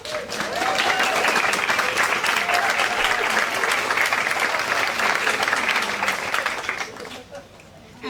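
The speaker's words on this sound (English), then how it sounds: "So if we could have a round of applause." An audience at a dedication ceremony applauds in a full, sustained burst of many hands clapping, fading out toward the end with some crowd voices mixed in.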